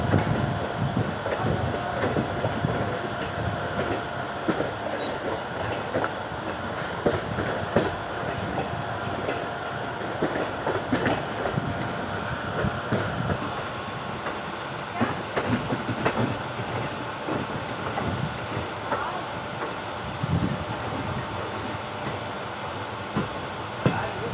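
The Udaipur City–Kamakhya Express rolls past on the rails with a steady, dense rumble and rhythmic clickety-clack of wheels over joints, loud and continuous throughout.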